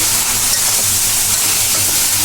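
Poa fish curry sautés in a pan with a steady, loud sizzling hiss, continuous and close with no talk over it.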